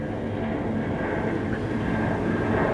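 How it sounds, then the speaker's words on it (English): An airplane passes overhead as a continuous broad, rumbling drone that stays steady and loud for the whole stretch, with no one talking. "there goes an airplane overhead"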